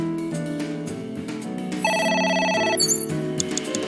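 A telephone rings inside the video game AI: The Somnium Files, a bright electronic trill that rises over a soft in-game music bed, heard clearly with no talking.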